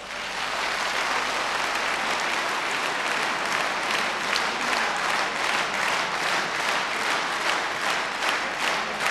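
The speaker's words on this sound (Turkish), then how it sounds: "Bak bu hanım için de böyle gürültülü alkışlar seslenecek." Loud, sustained applause from a concert audience for an Azerbaijani music performer, a dense roar of clapping that holds steady at full strength throughout.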